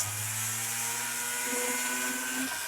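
A small sandpaper roll spun by a rotary tool whines steadily while sanding a nephrite jade setting, its tone sliding downward then rising, close and alone.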